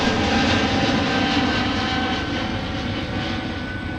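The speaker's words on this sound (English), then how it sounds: "2773 off to San Antonio tonight on an Airbus A220-100" A Delta Airbus A220-100 jet departs at Minneapolis–St. Paul airport, a loud, steady broadband engine roar that stays strong throughout and eases only slightly toward the end.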